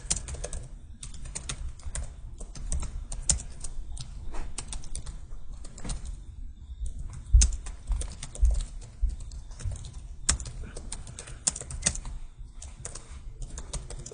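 Steady clatter of computer keys as an SQL select statement is typed, quick irregular keystrokes running continuously at close range with a couple of louder thumps midway, no talking.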